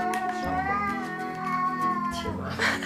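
A disabled cat at a shelter for disabled cats gives a long, drawn-out tonal meow followed by a shorter second call, close and clear with faint background voices.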